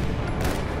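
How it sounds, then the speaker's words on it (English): Dense, continuous burst of automatic machine gun fire in a video game, loud and close throughout with no pauses. "A machine gun!"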